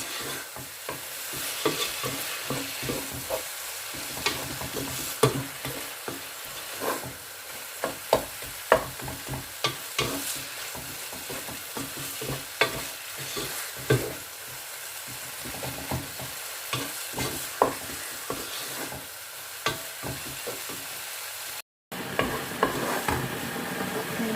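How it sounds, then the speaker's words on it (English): Tomatoes frying in a pan for chicken curry, stirred again and again with a spoon, giving a steady close sizzle broken by repeated scraping strokes, with no voices. "mix it and fry till the tomatoes are soft"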